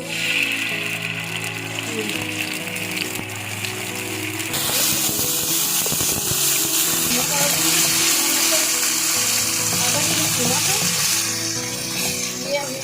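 Ginger garlic paste frying in about two tablespoons of hot oil for keema samosa, a broad steady sizzle that swells louder about halfway through, with faint voice traces underneath.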